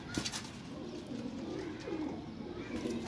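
Pigeon cooing at a rooftop pigeon sale, a soft low repeated coo from a nearby bird with faint ambient noise and no speech.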